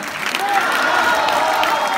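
A theatre audience claps steadily and warmly, a dense even wash of applause filling the whole stretch with faint voices mixed in.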